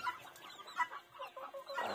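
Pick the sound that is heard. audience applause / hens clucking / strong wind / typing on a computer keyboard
hens clucking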